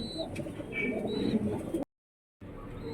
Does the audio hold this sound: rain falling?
no